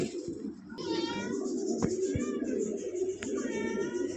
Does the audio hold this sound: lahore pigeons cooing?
yes